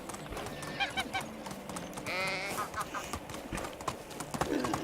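A horse in the medieval life game Medieval Dynasty walks with quick hoof clip-clops, a brief whinny partway through, and someone talking faintly underneath.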